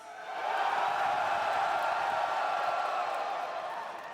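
Crowd at Evo France, a Tekken 8 fighting-game tournament, roaring and cheering in a big hall, a steady wash of shouts and whoops that swells in and holds loud throughout.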